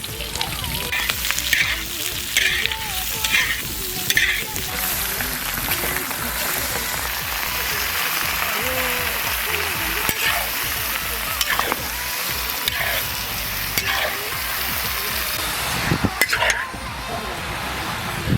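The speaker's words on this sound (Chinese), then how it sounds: "锅里不用倒油，先炒肥肉。" Fatty pork stir-fried in a large, heavily loaded wok with no added oil gives a dense, loud, continuous sizzle, broken by frequent metal spatula scrapes and clanks against the pan.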